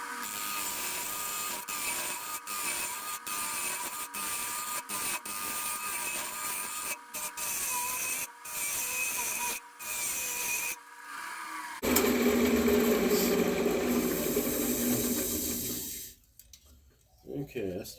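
Turning tool cutting a canarywood vase on a wood lathe, flattening the top and cleaning the inside: a steady scraping hiss with intermittent catches and gaps, louder and rougher in the latter half before tapering off.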